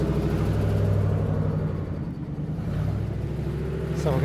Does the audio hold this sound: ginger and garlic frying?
no